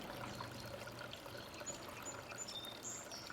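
A shallow stream trickles and burbles over rocks outdoors, a soft, continuous babbling wash that stays fairly faint and even from start to finish.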